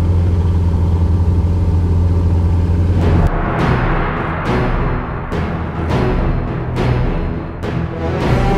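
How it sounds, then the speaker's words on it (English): A low engine idle rumbles steadily, then a Ferrari race car engine fires up at Silverstone with a series of sharp, loud revving bursts close by. "hear the engine starting up"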